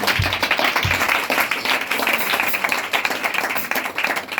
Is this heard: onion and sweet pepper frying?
no